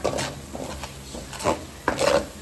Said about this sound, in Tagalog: kailangan natin halo-haloin para di masunog yung ating latte